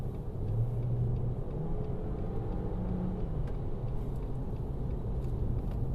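Steady low engine rumble and road noise from inside a moving Jeep Renegade crossover with a 1.3 engine, with a slight rise in engine tone early on.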